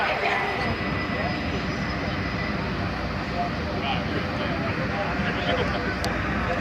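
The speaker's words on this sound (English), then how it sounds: "This is actually a really long train." A long CSX freight train rumbles past steadily over the Genesee River bridge with a broad, continuous roar and rattle, loud and close, with voices faintly talking over it.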